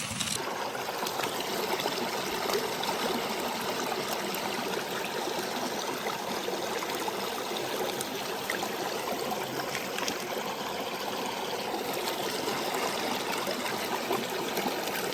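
Stream water trickling and gurgling steadily while crystals are washed during crystal hunting, a continuous moderate babbling flow, nearby, with no voices.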